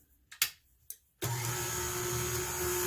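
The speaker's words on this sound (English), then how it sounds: "So let's start whisking in the sugars." Sugars being whisked into carrot cake muffin batter: a couple of soft knocks, then a motor whirs on abruptly and keeps a steady, close, even drone to the end.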